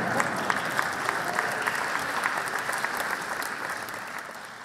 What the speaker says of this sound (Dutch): Vorige keer was hier nu applaus.